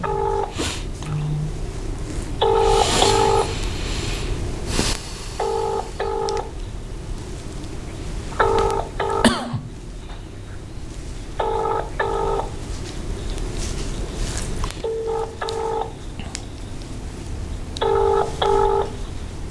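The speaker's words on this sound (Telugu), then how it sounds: "కొండ సురేఖ మేడం కాల్ చేద్దాం" A mobile phone call being placed to a state minister: repeated paired ringing tones sound at regular intervals over several cycles, with people talking underneath.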